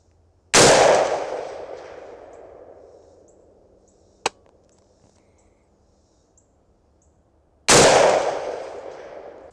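An AR-47 rifle fires 7.62x39 rounds at a 100-yard range: two loud, sharp shots about seven seconds apart, each with a long echoing decay, and a faint distant crack in between.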